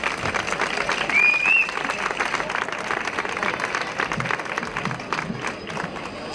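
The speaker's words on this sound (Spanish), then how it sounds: "recibimos con un fuerte aplauso a la alcaldesa de Manilva" Warm crowd applause greets the mayor of Manilva, Antonia Muñoz, at the opening of Paseo del Carmen in Sabinillas, a steady dense clapping that holds moderately loud for several seconds with scattered voices in the crowd.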